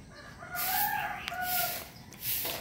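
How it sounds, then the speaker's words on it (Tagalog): A rooster crows with a long, drawn-out call, followed by another crow; loud and close, with a second bird faintly overlapping, in the Philippine countryside. "Pagka ito isang katutak na tilaok ng manok."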